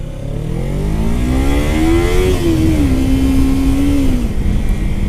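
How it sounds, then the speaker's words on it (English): A close 300cc motorcycle engine revs up near redline, its pitch climbing steadily, then holds a high, steady whine before dropping slightly. "Rev it up, taking almost a red line, hear that engine revving"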